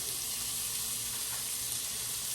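Onions hit hot oil with cumin seeds for a fenugreek and potato dish, producing a steady, quiet hiss of frying with no voices.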